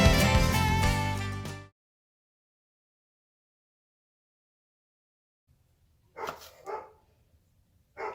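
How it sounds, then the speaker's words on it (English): Loud music stops abruptly, followed by silence, then a couple of faint dog barks in the distance. "Don't mind my wonderful dog barking."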